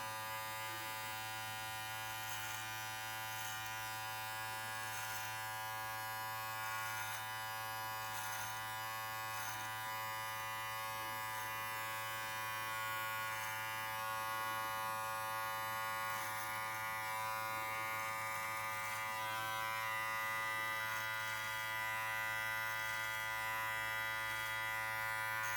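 A Brio Beardscape electric beard trimmer buzzes steadily and close while trimming a beard, a constant motor drone with slight pitch shifts as it moves through the hair, and no talking.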